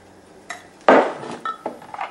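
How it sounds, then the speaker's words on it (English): A metal fork taps and scrapes against a pie dish while the top crust of a pineapple pie is scored, a few sharp close clinks and one brief scrape, with no talking. "Now we'll just score it with our fork."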